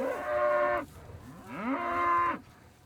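White-faced cattle raised on grass moo twice in long, drawn-out calls on a farm, with a short gap between calls and faint outdoor ambience beneath, heard at moderate distance without talk.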